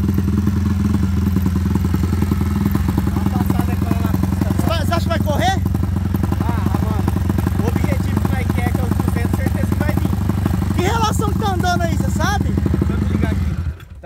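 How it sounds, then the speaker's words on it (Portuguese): A modified 190 cc motorcycle running on the street holds a loud, steady, rough engine drone throughout, with voices talking briefly over it before the sound cuts off at the end. "dar umas puxadinhas na pista pra ir."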